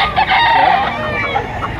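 Chickens and roosters at a crowded poultry market in Lipa, Batangas, a loud rooster crow ringing out over a steady background of clucking fowl.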